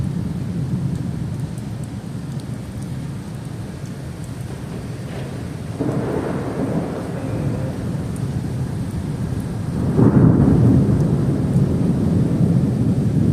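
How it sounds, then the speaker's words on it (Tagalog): A strong thunderstorm with heavy rain in Saudi Arabia roars steadily, rolling thunder swelling around the middle and again louder near the end over constant dense rainfall. "Lakas ng bagyo."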